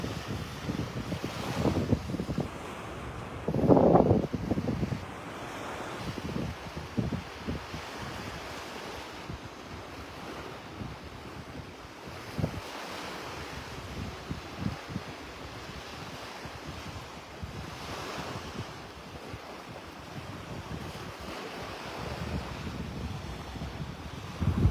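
Ocean waves break and wash ashore on Vanderbilt Beach in North Naples, Florida, with rolling surf surges mixed with gusty wind noise across the microphone and no voices.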